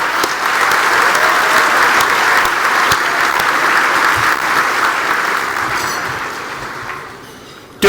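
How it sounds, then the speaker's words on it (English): A gala awards dinner audience gives a big round of applause for partners: dense, loud, sustained clapping from a large crowd that fades gradually near the end. "Let's give all of our partners a big round of applause."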